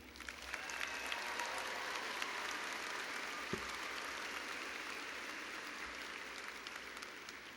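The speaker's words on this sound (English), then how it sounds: "Let's applaud them as well." Steady applause fills a graduation ceremony hall at the University of Wisconsin as the crowd claps for the graduates' families, a dense, even wash of many hands held at a constant level, with no talk over it.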